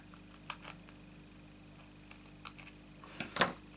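Paper being cut with non-stick scissors at a craft table: a few quiet, separate snips and clicks spaced irregularly, with a sharper cluster near the end, close by and without speech.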